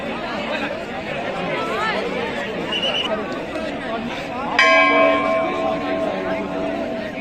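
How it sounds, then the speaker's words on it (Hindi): A dense crowd of pilgrims chatters steadily at Badrinath Temple in the Himalayas, with a temple bell ringing out clearly partway through. "और भीड़ देखो आप, क्या ज़बरदस्त भीड़ है।"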